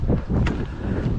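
Gusting wind buffets the microphone outdoors on the Appalachian Trail, a brief, loud, rumbling blast with no talk over it.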